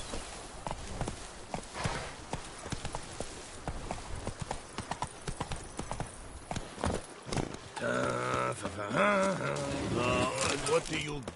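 Hooves of the horse Roach from the video game The Witcher 3 clop in a quick running rhythm, loud and close, and someone talks over them toward the end.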